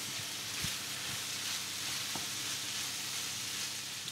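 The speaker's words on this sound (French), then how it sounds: "Et on termine la cuisson des courgettes." Zucchini slices finishing in a pan, a soft continuous sizzle and crackle heard close but quiet, with a few faint utensil taps.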